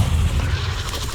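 A Confringo fire-blast spell explodes in the Hogwarts Legacy video game, a deep, loud booming rumble that holds steady for about a second with no voices over it.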